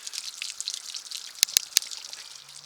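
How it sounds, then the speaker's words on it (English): Water drains from an RV hot water tank on a Grey Wolf 22RR toy hauler, a soft, faint trickle and patter with a few sharp drips standing out near the end. "So that's draining the hot water tank."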